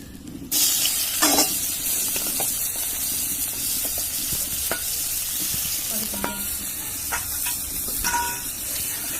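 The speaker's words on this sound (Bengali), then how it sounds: "তারপর পেঁয়াজ কুচি দিয়ে দেবো" Chopped onions sizzle steadily in hot oil in a home kitchen pan, with occasional clicks of stirring over a dense, continuous frying hiss.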